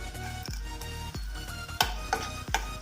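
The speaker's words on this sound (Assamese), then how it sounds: "কণী ভজা তেলতে মই গোটা মছলাখিনি দি দিছোঁ" Whole cloves, cardamom and black peppercorns sizzle in the oil left from frying eggs, a steady close hiss broken by regular scraping clinks of a spoon stirring the pan, with no voices.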